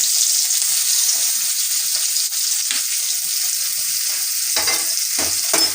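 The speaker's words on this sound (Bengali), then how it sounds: "পেঁয়াজটাকে আমি লাল করে ভেজে নেব।" Two medium onions, freshly cut, frying in hot oil in a pan for a restaurant-style chicken curry, giving a loud, steady sizzle throughout with a few brief stirring scrapes near the end.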